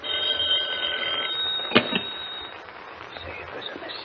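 An old-fashioned telephone bell rings in a 1941 radio drama. A bright ringing tone sounds near the start, with a couple of sharp clicks in the middle, over a low background hiss.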